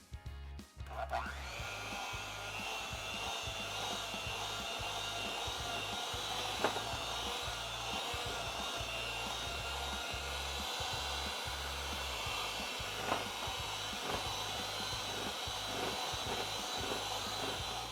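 An electric hand mixer runs steadily for a long stretch, beating banana bread batter with eggs, a continuous whirring drone with a few faint knocks against the bowl.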